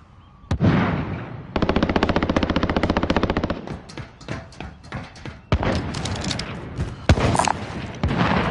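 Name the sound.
machine gun firing in a video game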